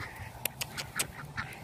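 Ducks at a pond give several short, faint quacks in quick irregular succession against quiet outdoor background.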